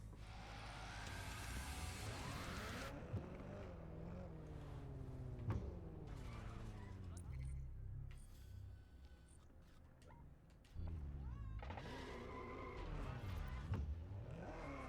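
A missile-equipped spy car drives in Watch Dogs Legion, its engine a steady rumble with rising revs and a loud surge near the end, while a person talks over it throughout.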